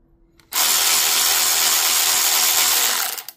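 Craftsman V20 cordless ratchet spinning in forward or reverse, a steady high-pitched motor whir that starts abruptly, holds constant for under three seconds, then winds down; close and loud with no talking.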